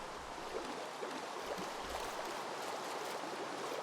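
Glitching flowing water in the Minecraft video game, a steady dense rushing and babbling wash of water, continuous and fairly loud with no talk.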